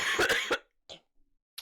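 A single close, sharp cough from a man at a desk, followed by a couple of faint breathy throat sounds in an otherwise quiet room.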